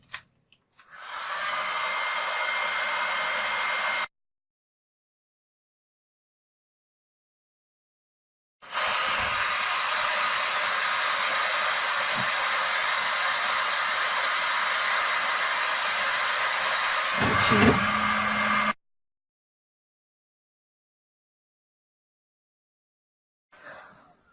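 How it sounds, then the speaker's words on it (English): A heat gun blows a steady, loud airflow hiss in two long runs separated by silence while shrinking heat shrink tubing over soldered bullet connectors, with no talk. "I'm going to grab my heat gun again."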